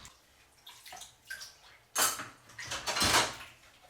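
Dishes being washed up in a sink: clinks of crockery and splashes of water, quiet scattered knocks building to louder bursts of sloshing and clattering, close by with no talk.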